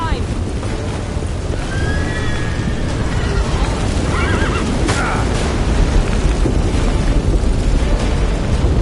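A horse whinnies in The Witcher 3 video game, a short rising neigh standing out over loud rumbling, rushing ambience and battle noise.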